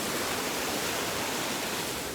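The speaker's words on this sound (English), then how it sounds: "So all that water is coming from the mountain, or the top of the mountain, and it's all rushing down right now." Rainwater rushes down a mountain drainage channel in Peru, a loud, steady broadband roar of churning water that stays constant throughout, close by with no voices.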